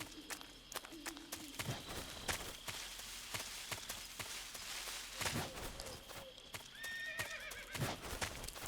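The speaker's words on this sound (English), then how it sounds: "I hear a horse." A horse in the video game Metal Gear Solid 3 whinnies repeatedly over clip-clopping hooves and busy game ambience, with loud neighs rising and falling and several sharp clicks scattered throughout.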